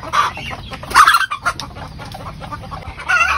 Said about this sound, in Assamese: সেইকাৰণে অলপ মানে ভয় খাইছে আৰু চিঞৰিবলৈ আৰম্ভ